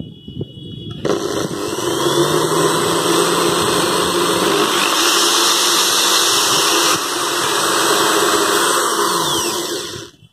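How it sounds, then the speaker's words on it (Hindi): A corded electric drill runs continuously with its speed-control trigger held down, a loud steady whir starting abruptly and holding with slight pitch shifts before cutting off at the end. "जितना ज़्यादा तेज़ी से ये बटन प्रेस करेंगे उतनी तेज़ मशीन घूमेगी"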